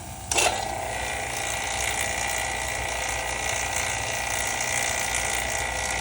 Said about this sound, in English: it's time to switch over my vacuum pumps